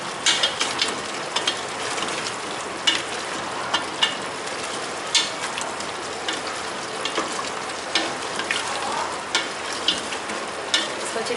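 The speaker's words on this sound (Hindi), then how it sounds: "अब इसको हम तेज़ आंच पे भून लेंगे अच्छी तरीके से" Chicken stew with chopped ginger and tomatoes fries in oil on high heat, giving a loud, steady sizzle with regular scraping stirs on top and no voices.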